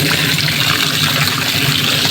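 Water from a tap rushes steadily into a container, a loud, close, continuous gushing hiss that barely changes over its short length, with no voices.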